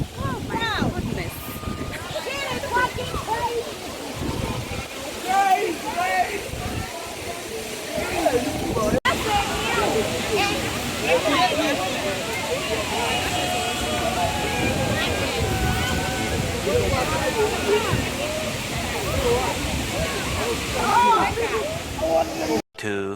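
Wli Waterfalls in Ghana, the highest waterfall in West Africa, roaring steadily in the rain as a broad, constant rushing wash, with people talking excitedly over it.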